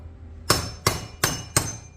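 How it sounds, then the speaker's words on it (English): A ball peen hammer strikes metal clamped in a vise, four sharp, loud ringing blows evenly spaced about a third of a second apart, each with a short metallic decay. "I just take my ball peen hammer, stick it in my vise,"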